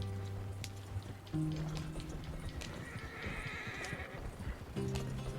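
A horse ridden in Red Dead Redemption 2 whinnies in loud, tonal bursts at the start and end, with steady clip-clopping hooves running underneath throughout.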